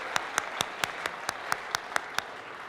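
A group applauding at an event in a city opera house, heard as about ten evenly spaced, crisp claps in a steady rhythm, fairly quiet and distant, with no talking.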